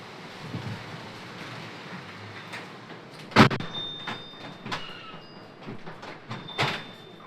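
Wind rushes past the microphone, then a door slides and shuts with a sharp knock, followed by a few lighter bumps and clicks.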